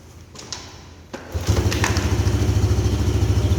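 A motorcycle engine starts up after a brief crank and settles into a steady, close, rhythmic idle, alone with no talk.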